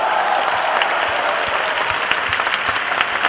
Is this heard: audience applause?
yes